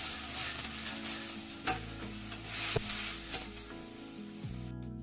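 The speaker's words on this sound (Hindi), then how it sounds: "जो हमने प्याज चॉप करके रखी थी वो, और इसको जो है ब्राउन होने तक भूनेंगे।" Chopped onions frying in hot oil with bay leaves and cardamom, a soft continuous sizzle broken by a few sharp scraping stirs of a spoon against the pan, no talking.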